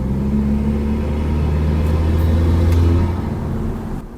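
Kenworth T800 truck engine revving steadily with a deep, loud rumble and audible flutter, holding strong for about three seconds before easing off near the end.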